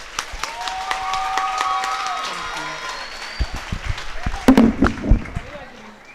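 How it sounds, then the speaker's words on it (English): A school prize-giving audience applauds in a hall, a dense wash of clapping with a few louder, sharper claps near the end and some voices mixed in. "please join me in giving a rousing round of applause to Mrs."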